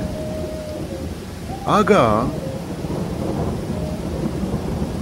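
Heavy rain hisses steadily while a loud thunderclap breaks in about midway, rolling briefly before fading back under the downpour; a voice is briefly heard.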